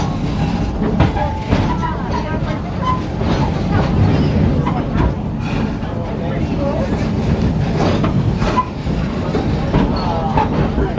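Rumble and rattle of the Serengeti Railway, an open-air park tour train at Busch Gardens Tampa, running steadily and close by with faint clatter, under continuous background chatter.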